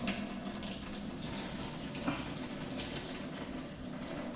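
Water pouring steadily into a pot of white rice during home meal prep, a continuous moderate gush lasting throughout without pause.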